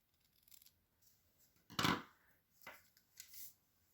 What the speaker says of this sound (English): I'm going to come back with my paper snips and trim that just a little bit more.